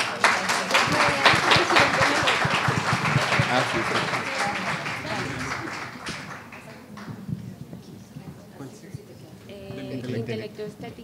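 Audience applause at a university faculty book presentation during a book fair, dense clapping from a crowd that is loudest early on and gradually thins out, with scattered talk underneath.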